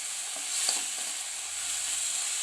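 Tomatoes sautéing in a pan for tomato halwa, a steady soft sizzle with faint scraping of stirring, quiet and close, no voices.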